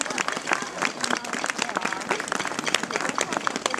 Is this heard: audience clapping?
yes